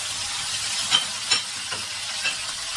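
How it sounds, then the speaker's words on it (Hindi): Cumin, coriander, spice powder and tomato are stirred and fried in a pan for restaurant-style palak gosht. A steady, loud sizzle carries on throughout, with a few brief spoon scrapes poking through. "इन सब चीज़ों को 2-4 चम्मच चला के अच्छी तरह भूनेंगे"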